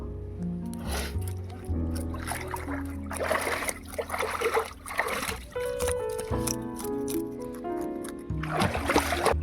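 Hilsa fish being cleaned by hand in water, with continuous close splashing, sloshing and trickling that swells and eases in uneven waves throughout.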